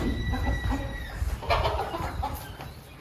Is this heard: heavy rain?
no